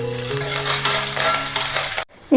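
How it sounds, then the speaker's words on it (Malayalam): Mustard seeds, three dried red chillies and coconut sizzling in hot oil, a loud continuous crackling hiss that runs steadily before dropping out briefly and returning. "കാൽ സ്പൂൺ കടുക് ഇട്ട് മൂന്ന് വറ്റൽമുളക് ഇട്ട് കൊടുക്കാം ഇതിലേക്ക് അല്പം തേങ്ങ ഞുറക്കിട്ട് കൊടുക്കാം"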